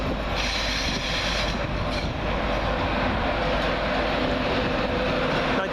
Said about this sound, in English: the delayed 1414 Virgin Trains East Coast service from London King's Cross to Leeds